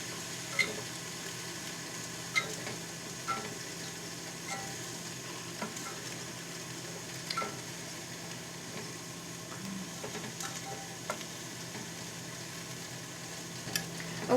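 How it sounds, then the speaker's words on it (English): Potatoes cooking in the same pan for an eggplant and potato gratin give a steady, quiet sizzle, with faint clicks and taps from stirring scattered through it. No one speaks. "in the same pan I'm just going to cook the potatoes for a little"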